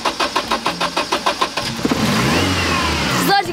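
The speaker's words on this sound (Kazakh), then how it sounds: "машина оталып кетті" A car engine cranks in a quick run of rhythmic starter churns, then catches and fires up into a loud, steady idle with a brief rev at the end.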